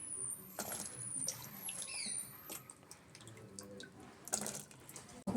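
Cauliflower florets lowered into a pot of hot water for Gobi, giving close splashing and trickling water sounds with a few clinks and drips, no voices.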